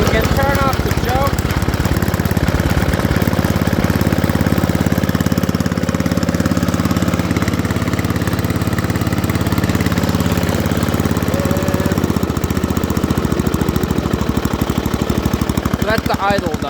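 An Ariens ST504 snowblower engine idles steadily after a cold start, a loud, close, continuous chugging drone that lasts throughout and shifts slightly near the end as the choke comes off.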